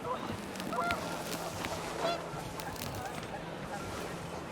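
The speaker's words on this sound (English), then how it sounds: "The wind picked up and panicked geese appeared and quickly went." Panicked geese in the video game What Remains of Edith Finch honk in a flurry of overlapping calls that rise and fall over gusting wind, with no talking.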